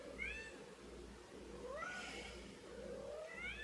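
Indoors, a cat keeps meowing at a closed door, giving a series of plaintive, wavering cries that slide up and down, close by and repeated every second or so with no talking.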